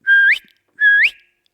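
Two short rising whistles from a person, each a steady tone that swoops upward at the end, separated by a brief pause, close and clear with no talking.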